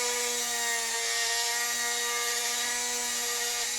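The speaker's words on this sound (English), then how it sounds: "And right now I'm just lightly sanding or going across." A steady, close rubbing hum of light sanding on a metal Celtic cross pendant, continuous and even with a sustained tonal whine, no voices.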